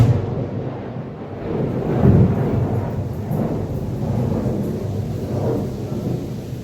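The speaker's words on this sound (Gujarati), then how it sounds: "અવાજ આવ્યો છે કદાચ વીજળીનો કડાકો થયો છે" Deep, rumbling thunder during heavy monsoon rain in Mahuva, Saurashtra, rolling through a noisy outdoor background, swelling and fading over several seconds with no talk.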